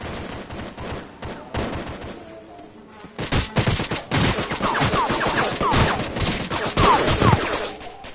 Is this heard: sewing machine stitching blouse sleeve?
no